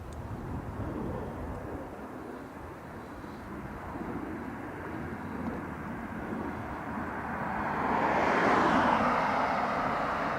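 An ATR turboprop airliner at Dublin Airport, a steady broad engine roar at moderate distance that swells louder toward the end as it draws nearer, with no talk over it.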